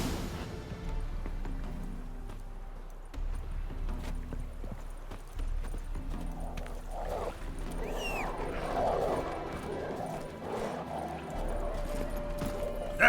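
Roach, Geralt's horse in The Witcher 3, clops along in steady, rhythmic hoofbeats on the ground, a continuous gait running throughout over a low ambient game soundscape.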